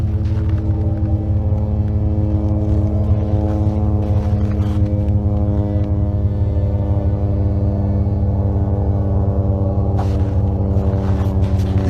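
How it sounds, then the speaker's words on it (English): A loud, steady propeller drone hums on and on with a deep buzzing tone, holding its level throughout without fading. "Finally hearing that plane."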